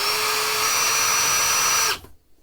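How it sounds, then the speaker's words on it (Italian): A power drill with a self-centering bit boring hinge holes whines loud and steady for about two seconds, then cuts off abruptly. "Quindi utilizzo questa cerniera, ripeto, ad occhio e pratico il primo foro."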